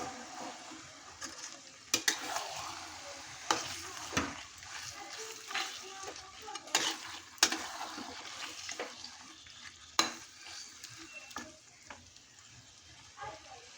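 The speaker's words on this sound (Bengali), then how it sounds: "এখন মাংস দিয়ে খুব ভালো করে কষিয়ে নেব।" Goat meat being fried and stirred over medium heat in a pan, a steady low sizzle with repeated spatula scrapes and knocks against the pot, fairly quiet and close.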